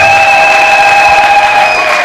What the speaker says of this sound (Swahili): Kama tunaungana basi hebu tumpe Yesu makofi